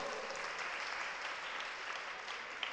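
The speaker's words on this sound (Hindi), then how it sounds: "ताली बजाना सब लोग।" Soft, even applause from a gathered audience at a religious discourse, continuous and somewhat distant throughout.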